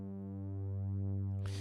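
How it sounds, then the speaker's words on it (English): Sustained Reaktor synth pad built from two clashing oscillator tones, a steady stack of harmonics with slow beating as an LFO sweeps them back and forth, alone, ending in a short burst of noise. "You can also hear the clashing between the two tones of the oscillators going back and forth."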